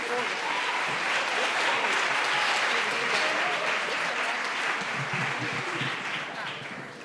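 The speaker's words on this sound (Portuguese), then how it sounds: "Uma salva de palmas, por favor." Warm applause from a gathered audience at a Catholic political event in Brazil, welcoming a future missionary from Anápolis, steady and full for several seconds and then easing off slightly.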